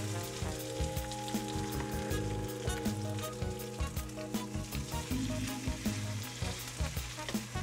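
Small scoops of batter fry in a pan like little pancakes, giving a steady, loud sizzle and crackle with a constant hum under it throughout.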